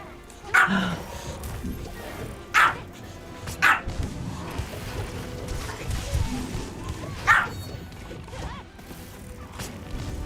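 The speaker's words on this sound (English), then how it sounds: "That's kind of what happens with Pomeranians. They're very yappy dogs." A Pomeranian dog barking in short, sharp yaps, four or five separate barks spaced a couple of seconds apart, close by, with household rustle and faint talk in the background.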